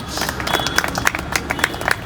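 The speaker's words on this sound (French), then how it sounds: "Josué Moubendi, que je vous invite également à applaudir très fort." A crowd at an album listening event applauds, with a steady patter of many hands clapping and a few sharper claps standing out, heard from a moderate distance.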